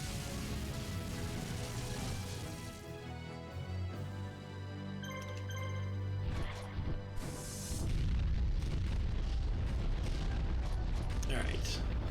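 Cannon fire and heavy booms in the Yu-Gi-Oh: The Falsebound Kingdom video game, loud, dense and continuous, with the rumbling thickening and growing louder near the end, heard under game music.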